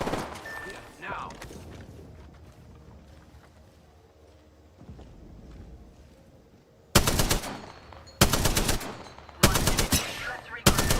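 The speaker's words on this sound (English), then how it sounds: "Firing on our foes." Loud bursts of automatic gunfire in Apex Legends ranked play, three or four rapid volleys close up after a quieter stretch of game ambience and brief voice lines.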